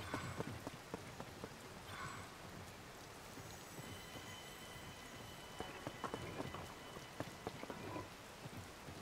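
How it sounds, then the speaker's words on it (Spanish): Rainfall in The Legend of Zelda: Tears of the Kingdom, a steady dense patter of drops filling the scene at low level, with scattered sharper droplet ticks and no voices. "Está lloviendo."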